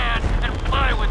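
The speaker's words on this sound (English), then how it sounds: "All I hear is explosions, and it's terrifying. I know it's because of the fireworks." Fireworks exploding in the video game GTA V during a chaos mod session, a dense run of booming blasts and crackling bursts that fill the scene loudly and continuously, with no clear gaps.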